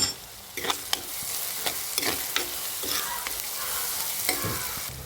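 Onion, green chilli, curry leaves, ginger and garlic frying with a little salt in a pan after mustard seeds have popped, a steady broadband sizzle broken by sharp spoon scrapes and clinks, close and without talk.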